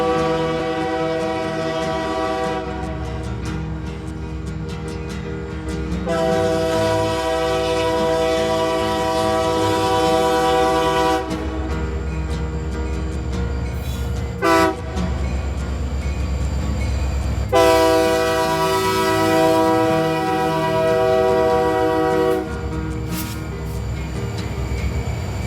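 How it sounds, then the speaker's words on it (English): An eastbound Union Pacific mixed freight led by two SD70 Max locomotives rumbles past close by in Rochelle, Illinois, sounding repeated long horn blasts with short gaps over the steady roar and rattle of the passing cars. "was a Union Pacific mixed freight train heading east. Two SD70 Max numbers 3963 and 3961 led the train."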